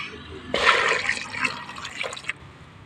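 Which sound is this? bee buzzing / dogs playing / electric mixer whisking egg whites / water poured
water poured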